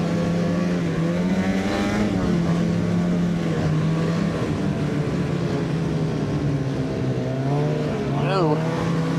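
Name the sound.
Freeride 800 snowmobile riding on trail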